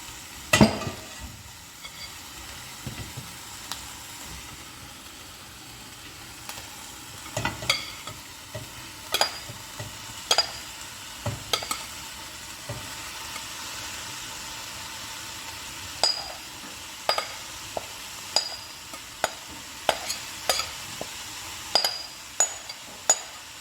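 Vegetables stirred into a hot oil-free pan of softened onions for scrambled egusi (melon seeds), giving a steady low sizzle with repeated sharp clinks and scrapes of a utensil against the pan, close and alone without talk.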